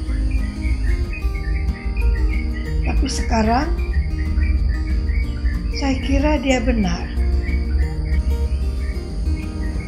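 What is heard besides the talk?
wild birds singing in a garden in the morning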